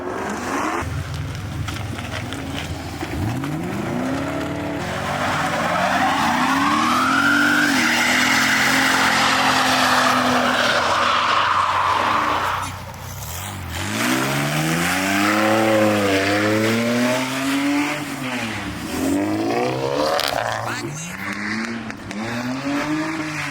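A Hellcat at a car meet doing a one-wheel peel, tires squealing loudly and continuously over a roaring, revving engine, close and sustained for most of the stretch with pitch sweeps as it accelerates.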